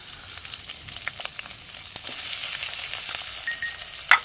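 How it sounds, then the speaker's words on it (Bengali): Onions frying in hot oil for restaurant-style Afghani chicken, a steady broadband sizzle with scattered crackles and pops that builds slightly louder toward the end, with one sharp spatter or utensil tap near the close. "তেলটা গরম হয়ে গেলে পেঁয়াজটা ভেজে নেব"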